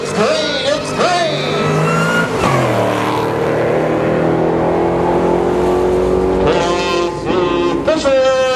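Drag racing cars launch and roar down the strip at a Friday night race, loud, close engines rising in pitch through hard acceleration, with a second burst of revving near the end and an announcer's voice over the noise.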